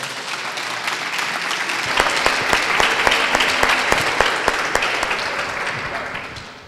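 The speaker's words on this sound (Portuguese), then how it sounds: "uma salva de palmas" An audience applauds after a round-table talk. The clapping builds into a full, steady ovation with a few sharp, distinct claps standing out near the front.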